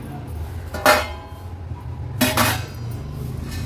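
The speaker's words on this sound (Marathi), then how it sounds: "आता गॅसची फ्लेम स्विच ऑफ करते आणि एका ताटामध्ये हे खोबरं काढून घेऊया" Roasted grated coconut is scraped from a pan onto a plate, giving two distinct metallic scrape-and-clink bursts over a low steady background hum.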